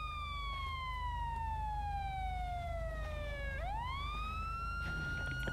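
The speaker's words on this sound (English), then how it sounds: "Turn off my siren." A siren tone sweeps slowly downward, then rises sharply and holds high, clear over a constant low engine rumble, like a police car in a game.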